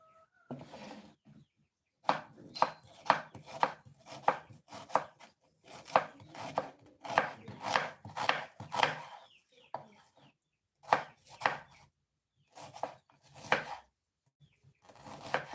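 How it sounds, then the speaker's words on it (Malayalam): An onion chopped with a knife on a board: rapid, close, crisp blade taps in bursts of several strokes, pausing briefly between runs, with no talking. "ഈ ഉള്ളി അരിഞ്ഞിട്ട് അതിലോട്ടൊന്ന് ഇടണം"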